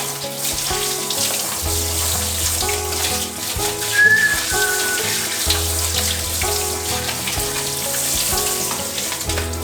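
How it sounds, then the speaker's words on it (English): Water runs and splashes steadily over a reusable microgreens grow tray mat being rinsed out at a sink, a continuous close, hissing spray with no talk. "I'll go ahead and rinse this one out just so you can see how easy it is"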